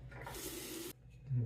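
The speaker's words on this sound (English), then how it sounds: "rinse time again for the razor" Tap water runs briefly over a Feather razor being rinsed, a short hissing stream that cuts off abruptly, followed by a faint low clunk.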